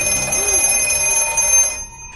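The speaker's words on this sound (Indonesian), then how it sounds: "telepon hitam kembali berdering" A black telephone ringing in the horror film The Black Phone, a sustained bright metallic bell ring that cuts off abruptly near the end.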